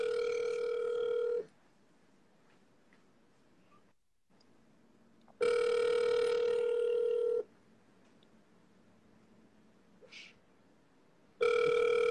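An outgoing telephone call rings back, with three loud ringback tones separated by quiet pauses and faint background noise between them.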